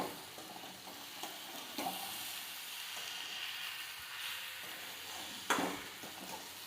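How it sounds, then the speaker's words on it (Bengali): Mango chutney with added sugar is stirred in a pan, giving soft scraping and a steady low sizzle, with a few louder clinks of the spoon near the end. "এবার নাড়াচাড়া করবো ভালো করে।"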